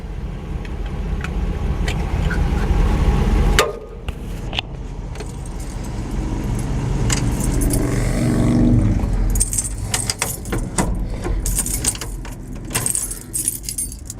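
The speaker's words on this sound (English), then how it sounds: "You just pull the keys right out of the ignition." Car keys jangle and rattle close up as they are pulled from a car's ignition, with a sharp clack partway through and a steady low rumble underneath.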